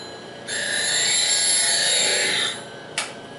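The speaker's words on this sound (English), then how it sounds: "so let's sharpen up the gouge" A bowl gouge ground on a sharpening grinder for woodturning gives a steady, bright grinding rasp for about two seconds, then a brief second touch, close and alone without talk.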